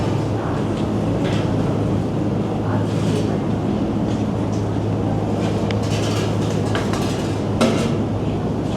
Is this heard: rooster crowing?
no